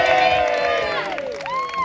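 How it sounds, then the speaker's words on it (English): A protest crowd outside Downing Street in London cheers and applauds, loud and close, with shouts and whoops rising over the clapping in a short burst. "Round of applause."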